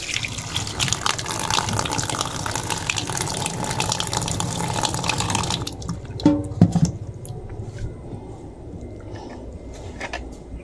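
Tap water gushes steadily into a sink while sweet potato shoots (talbos) are rinsed for milkfish sinigang, a continuous broadband rush that cuts off partway, leaving a few clinks and drips in a quieter room.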